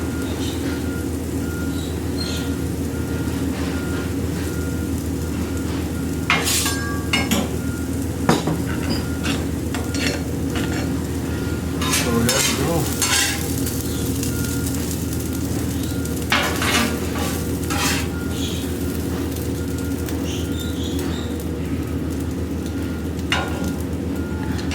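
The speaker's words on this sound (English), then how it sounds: "Go ahead and dump all 3 eggs down. Try to spread them out evenly." Three eggs sizzle steadily on a Camp Chef FTG600 flat top grill, a constant frying hiss with scattered scraping and clinking of a spatula against the griddle.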